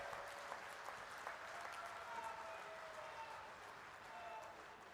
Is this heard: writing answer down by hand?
no